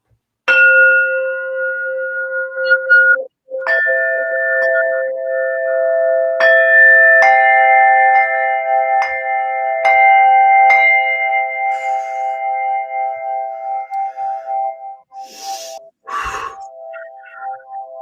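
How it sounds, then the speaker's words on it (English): Three crystalline singing bells rung one after another, each struck with a sharp onset. Their pure sustained tones layer into a long, loud, shimmering ring that slowly fades before a brief rustle near the end. "I'm going to play three of my crystalline bells here, tones."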